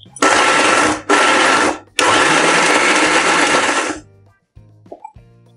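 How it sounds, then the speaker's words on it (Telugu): A mixer grinder blends ridge gourd chutney in loud, close whirring bursts, with one short pause between bursts, then a longer run that cuts off, leaving faint clinks. "బీరకాయ ముక్కలు వేసుకుని మిక్సీ చేసుకోవాలి"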